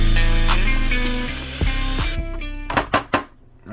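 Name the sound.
drilling out an aluminum RC boat rudder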